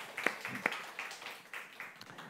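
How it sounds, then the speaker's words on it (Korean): A church congregation gives a short round of clapping in praise, soft and fairly distant, with a few sharper claps standing out over the steady patter. "우리 하나님께 감사 영광의 박수 한번 올려드리겠습니다."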